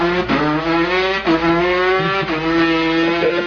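A voice imitates a two-stroke moped engine, producing a buzzy, harmonically rich drone with a few quick rev-like dips and rises, close and alone for a few seconds.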